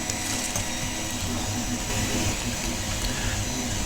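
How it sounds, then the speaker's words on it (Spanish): A 3D printer running a print in homemade PET filament, giving a steady, continuous mechanical whir and buzz with no pauses, close and alone. "nos vamos a la impresora"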